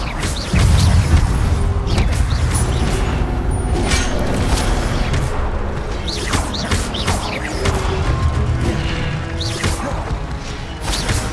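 Fiery Incendio spell blasts in Hogwarts Legacy combat, repeated whooshing bursts and crashing impacts over a busy, loud battle din with shouted spell names.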